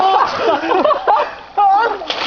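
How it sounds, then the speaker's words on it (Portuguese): Splash of a boy's belly flop into water, with excited young voices shouting loudly over the splashing and sloshing water close by. "Que barrigada!"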